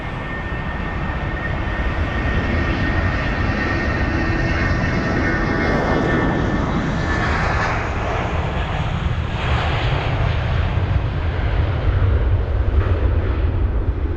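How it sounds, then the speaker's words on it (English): A British Airways Airbus A320 taxis at London Heathrow, its engines giving a loud, sustained roar and rumble that swells slightly toward the end, with no voices. "we've got the BA A320 on the move"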